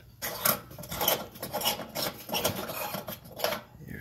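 A plastic light cover is unscrewed inside a Samsung oven, giving a series of short rasping, scraping grinds in quick rhythmic twists, near and fairly quiet.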